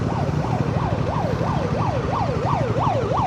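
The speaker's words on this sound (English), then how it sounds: "The ambulance is coming." An ambulance siren on a Kathmandu road wails in a fast, regular rising-and-falling cycle, moderately near, over steady traffic and engine rumble.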